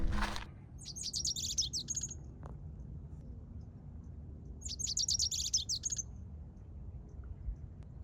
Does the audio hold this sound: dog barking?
no